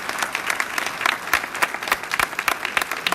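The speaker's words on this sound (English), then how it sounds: "Let's give these candidates one great round of applause once again." An audience claps for the candidates at a Texas House District 25 candidate forum, a burst of dense, steady applause from a moderately sized crowd heard fairly close.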